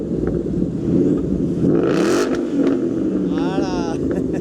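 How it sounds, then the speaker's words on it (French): A Ford Mustang GT/CS V8 engine rumbles close by, with a brief throttle blip rising and falling midway, while people talk over it. "Un bon son de V8 bien gras."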